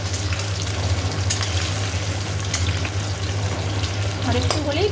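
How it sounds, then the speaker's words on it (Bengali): New potatoes frying in a kadai to go with meat make a loud, dense, continuous sizzle with crackling throughout, plus a low steady hum underneath. "আলুগুলো একটু লাল লাল করে ভাজি"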